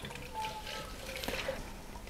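Milk being poured into a bowl of white flour for waffle batter, a soft, steady liquid trickle and splash heard faintly and up close for about two seconds.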